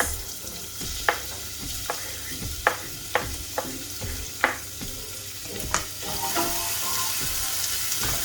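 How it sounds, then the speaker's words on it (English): Chopped onions sizzle steadily in extra virgin olive oil in a pot, a continuous frying hiss broken by several sharp clinks and scrapes of stirring. "I just added my extra virgin olive oil into my pot. Then I'll add in our chopped onions."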